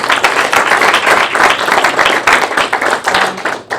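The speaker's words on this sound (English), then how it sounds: "let's give her a round of applause" A small audience at a student government senate meeting claps for a few seconds, individual claps distinct and close, uneven rhythm with a brief dip near the end.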